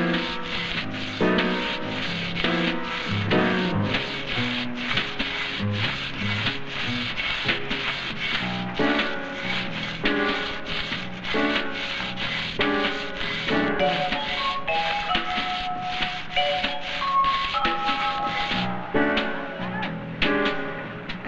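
A rhythmic grinding rasp repeats steadily back and forth as a saw works slowly through hard rock, with faint ringing tones underneath.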